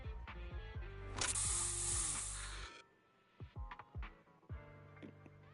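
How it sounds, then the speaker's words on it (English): A special Bangboo spray in the Zenless Zone Zero game gives a loud, steady hiss lasting about a second and a half over a low game soundscape, then cuts off and leaves quieter thumps and tones. "Here, have a taste of this special Bangboo spray."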